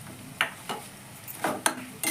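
A few sharp spoon scrapes and clinks against a pan, spaced irregularly over a faint sizzle, as garlic paste fries with softened onions and ginger paste. The frying stays quiet and close.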